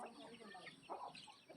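Chickens feeding on grain give soft, scattered clucks at a distance, faint and irregular against low background noise.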